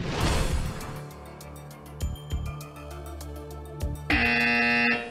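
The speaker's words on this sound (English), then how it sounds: "Careful before you hit the buzzer." A quiz buzzer at a campus quiz final sounds near the end as a sudden loud, steady electronic tone, following a stretch of music stings and brief hits.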